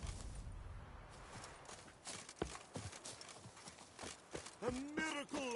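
Horse hooves clip-clopping at a steady walking rhythm in The Witcher 3 game, close and clear, with a whinny-like tonal call near the end and a voice speaking over parts of it.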